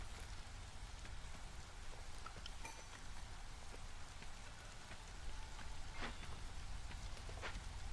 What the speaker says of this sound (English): Now it's in the drizzle in year 2.